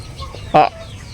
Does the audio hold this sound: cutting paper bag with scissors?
no